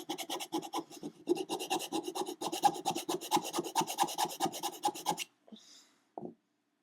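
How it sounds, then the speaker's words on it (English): Wood is sanded inside the head hole of a kimekomi doll body, a close rhythmic rasping of quick back-and-forth strokes for about five seconds, followed by a couple of faint handling knocks. "when you've poked some out, you can go in and sand it"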